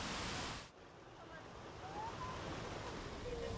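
Abundant water from a spring in Kryas Park rushes steadily, a continuous hiss with some wind buffeting over it.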